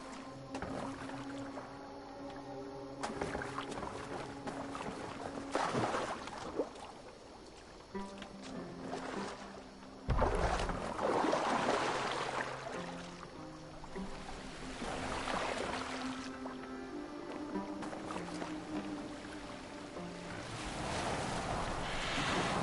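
A Viking longboat moves across open water in the video game Assassin's Creed Valhalla. Oars slosh and waves wash in slow, swelling surges under soft wind, with a low tonal drone and no speech.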